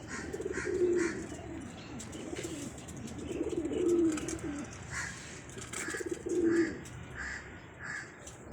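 Soft, low cooing from domestic pigeons in a rooftop loft, three throaty coos spread out over several seconds with faint chirps and ambient noise around them.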